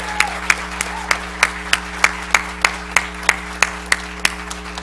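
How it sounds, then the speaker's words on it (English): Commencement applause for graduates comes as a rhythmic series of sharp, evenly spaced claps about three per second over a steady electrical hum, fairly close and clear rather than a dense crowd roar. "Let's give you one more round of applause."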